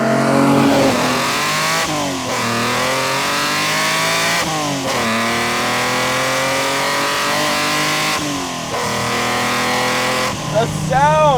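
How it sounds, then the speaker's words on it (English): A 1971 Nissan Skyline Hakosuka with a carbureted, roughly 3-liter engine revs hard through repeated upshifts, each pull climbing then dropping at the gear change, loud and close from inside the car with brief voices. "There's so much depth to the sound of this engine."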